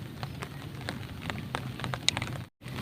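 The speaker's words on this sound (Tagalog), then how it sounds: "Sana po tumigil na po yung ulan." Heavy typhoon rain pours onto surfaces during flooding, a dense continuous patter with scattered sharper drop hits, briefly cut out near the end.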